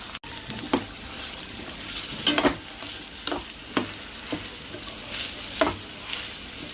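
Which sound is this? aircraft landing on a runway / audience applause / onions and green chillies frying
onions and green chillies frying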